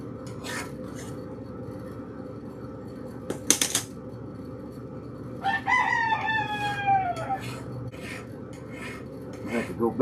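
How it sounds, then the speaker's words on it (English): Chickens in a yard with a rooster crowing once midway, over a steady low hum and occasional scraping noises; no one speaks. "listen to the chickens"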